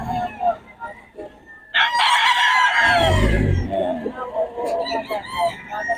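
At a Bocaue market, stag roosters crow loud and close, with one long cock-a-doodle-doo rising over the surrounding chatter while people keep talking through it.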